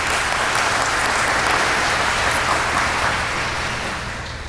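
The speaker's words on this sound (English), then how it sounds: "so let's give them a round of applause." Sustained applause from an audience at a university awards ceremony, dense and steady clapping that fills the room and tapers slightly at the end.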